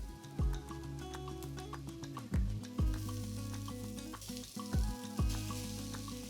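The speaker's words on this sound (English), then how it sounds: "Going to add our ground beef," Ground beef sizzles in a pan with garlic, a steady close frying hiss punctuated by several sharp clicks and thuds of a utensil against the pan.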